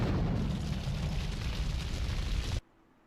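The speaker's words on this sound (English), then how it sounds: "There's an open window and I have grenades." A grenade blast in a video game comes as a loud, dense roaring burst that holds steady for over two seconds, then cuts off abruptly into near silence.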